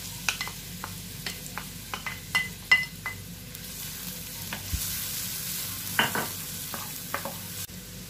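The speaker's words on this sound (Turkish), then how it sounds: "Şöyle tavama yağımı alıyorum. Üzerine de yemeklik doğradığım soğanlarımı ekliyorum." Chopped onions fry in hot oil in a pan with a steady soft sizzle, broken by repeated light clinks and scrapes of stirring against the pan.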